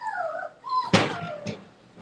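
Boerboel puppies about 35 days old whimper and whine for food, with high, wavering cries and a short yelp, close and fairly loud, no talk.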